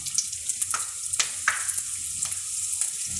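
Sliced onion sizzles steadily in hot oil for a masala mochai dish, with a bright continuous crackle broken by several sharp spatula scrapes and stirring clicks, close and alone.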